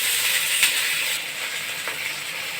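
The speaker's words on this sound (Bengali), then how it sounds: "পানি দিয়ে দিলাম" Water added to a pan of fried onion and garlic while cooking jute leaves brings a bright, steady sizzling hiss, broken by a couple of faint clinks close by.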